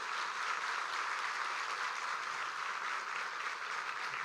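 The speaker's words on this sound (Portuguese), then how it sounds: "Dê uma salva de palmas ao Senhor." A church congregation claps steadily and evenly throughout, a full, continuous roar of many hands with no voices rising above it.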